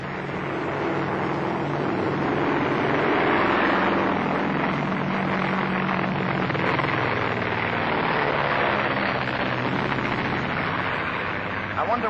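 A propeller airplane drones loudly and steadily throughout, a broad engine roar with low hum that swells slightly mid-way, from an old film scene aboard an aircraft in flight.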